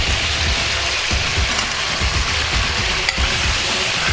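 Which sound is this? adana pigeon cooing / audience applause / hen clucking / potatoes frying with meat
potatoes frying with meat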